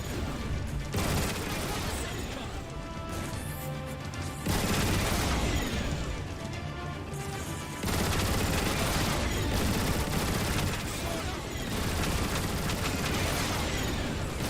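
Heavy turret gun emplacements in Transformers War of Cybertron fire in sustained, loud mechanical bursts with booming impacts, continuing almost without pause across the stretch.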